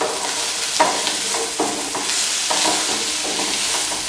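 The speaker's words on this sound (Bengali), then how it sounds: "এই সব কিছু একটু সফট হওয়া পর্যন্ত ভেজে নেব।" Red bell pepper and baby corn sizzle in a pan while a spatula stirs them, the scraping strokes repeating at a quick uneven rhythm over a continuous close frying hiss.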